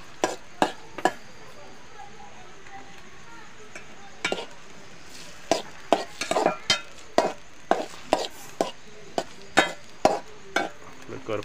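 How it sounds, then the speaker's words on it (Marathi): Chicken in oil is stirred in a pan, producing sharp, irregular metallic taps and scrapes of the spoon against the pan over a faint background hiss. "थोडं ढवलूया."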